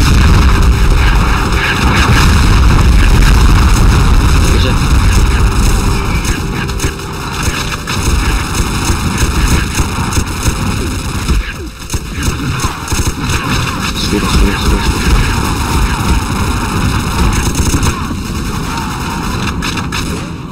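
Heavy artillery cannon fire in a video game booms continuously, loud and dense, with layered blasts and rumbling explosions filling the whole stretch.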